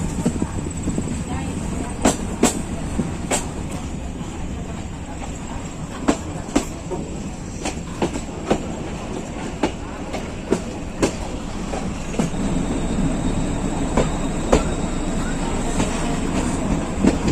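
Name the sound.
meter gauge passenger train running through forest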